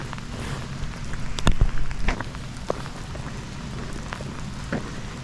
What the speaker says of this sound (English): It has been raining all day long.